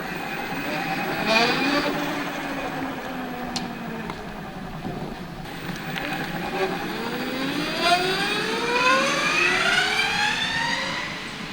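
An electric supermoto motorcycle in custom mode whines up through rising electric motor tones, pitch sweeping upward repeatedly as it accelerates, with wind rush underneath; nearby and steady in loudness.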